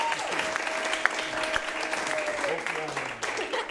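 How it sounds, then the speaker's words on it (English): A theater audience gives a round of applause for the directors at an improv show, steady continuous clapping with some cheering and voices mixed underneath. "Give our directors both a round of applause"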